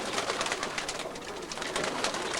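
Young birds flap their wings in a continuous, busy flutter of soft rustling bursts at moderate volume, with no voices present.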